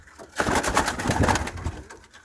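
Soft pigeon cooing mixed with rustling and outdoor noise, fairly faint and continuous for a couple of seconds.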